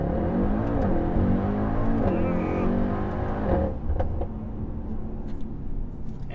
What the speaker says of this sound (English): But while we're at a stoplight, let's try launch control.